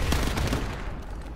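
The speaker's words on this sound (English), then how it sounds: "This new submachine is fucking unbelievable" A short, rapid burst of submachine gun fire in Call of Duty Modern Warfare Remastered, on the Pipeline map: quick close rattling shots that fade into a brief echoing tail.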